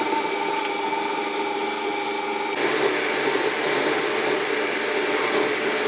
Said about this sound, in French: Et on va venir mixer le tout simplement, et c'est comme ça qu'on va obtenir un lait végétal express.